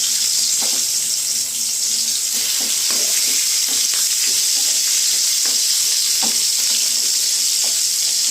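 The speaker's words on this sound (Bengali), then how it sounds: "এবার এই পাশটা আমি এইভাবে ভেজে নেব" Milk paneer pieces fry in a pan over a low flame, giving a loud, constant, close sizzle with scattered small pops and spatters throughout.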